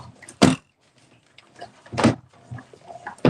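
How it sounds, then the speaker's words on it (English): A die cut and emboss machine lets out a loud, sharp click close by, followed later by a second strong click, with quieter handling rustles and shuffling between them while crafting a pop-up card. "you're going to hear a large click."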